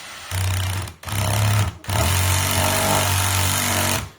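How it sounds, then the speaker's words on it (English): A DeWalt DCD778 cordless drill driving a screw on torque setting 1: loud, close motor whine in three bursts separated by brief stops, ending with the clutch ratcheting as it kicks in, no talk. "I'll put a screw in on the number 1 torque setting for you"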